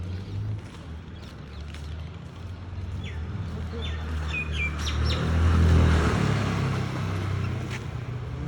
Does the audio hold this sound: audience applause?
no